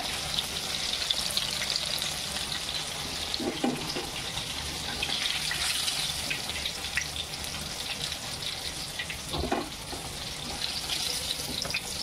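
Stuffed bombil rolls fry in oil on a pan over high gas, a dense, continuous sizzle with bright crackles and occasional louder spits, close and steady.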